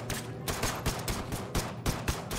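Rapid gunfire from units in the video game They Are Billions, a rhythmic series of sharp shots repeating about every third of a second at moderate loudness with no talking.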